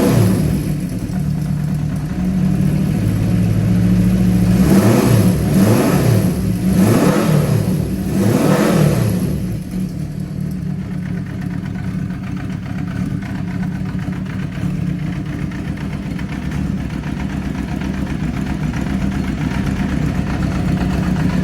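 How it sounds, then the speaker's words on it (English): A restored 1973 Honda CB500F motorcycle with a four-into-two exhaust, started cold without choke, revs up in several sharp blips, then settles into a steady, close idle for the rest of the time. "Let's start it again. Cold bike. Starts right away without choke."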